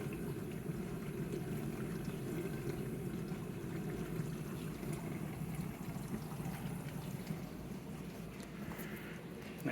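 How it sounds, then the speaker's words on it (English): A Bosch 300 series dishwasher runs on a normal cycle, with water sloshing and splashing inside over a low pump rumble. The sound stays steady and fairly quiet throughout. "You can kind of hear the water inside"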